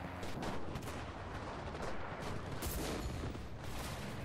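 Gunfire in the WWII shooter Enlisted on a Normandy invasion map, rapid shots and distant battle bursts rattling continuously at moderate loudness with no talk.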